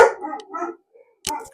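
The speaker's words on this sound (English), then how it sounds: "How does she not wake up through his barks?" A dog barks indoors, loud and close, a few quick barks with a short pause between them.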